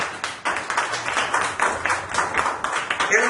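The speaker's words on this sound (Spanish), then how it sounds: "¿Por qué no le da un aplauso al Señor" Congregation clapping during a church service, a dense, steady burst of many hands at close range that carries on throughout.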